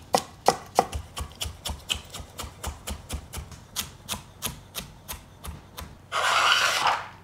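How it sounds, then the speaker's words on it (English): A knife cutting an onion on a cutting board, with a steady run of about twenty crisp rhythmic chops, close and clear, ending in a brief rougher scraping burst. "For my onions, I always cut this part off"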